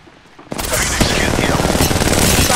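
Sustained automatic gunfire in the shooter game Apex Legends, a loud continuous burst of rapid shots starting abruptly after a quiet moment and running to the end.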